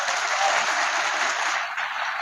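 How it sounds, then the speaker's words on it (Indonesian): Audience applause at a religious gathering in Indonesia, a dense, steady clapping from a large crowd that fills the whole stretch at even loudness, with no voices heard over it. "Tepuk tangan untuk kompak."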